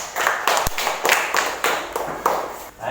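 Classroom students clap their hands in a ragged, uneven patter of several quick claps, fairly close and moderately loud, with faint voices underneath.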